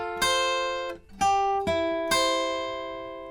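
Electric guitar plucking single notes from a riff, played without a capo: four clear, ringing picked notes spaced roughly half a second apart, each sustaining with bright overtones, played alone with no talking.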